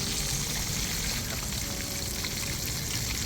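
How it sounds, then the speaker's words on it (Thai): Snakehead fish frying crisp in hot oil, a steady dense sizzle and crackle that stays level and close throughout with no talk. "ทอดธรรมดานะทอดให้กรอบเลยนะครับ"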